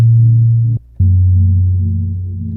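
A sampled low-pitched tone serves as a bass line. It is a deep, sustained hum with rich harmonics, briefly cut out once before resuming and slowly fading.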